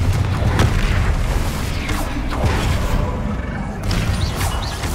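A Confringo explosion spell goes off in the Hogwarts Legacy video game, a loud booming blast with crackling debris over dense game sound, followed by further bursts.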